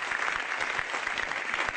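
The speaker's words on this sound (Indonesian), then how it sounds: "Tepuk tangan buat komik-komik kita yang luar biasa" Steady applause from a comedy-show audience for the stand-up comedians at a Metro TV anniversary event, a dense continuous patter of many hands filling the room without pause.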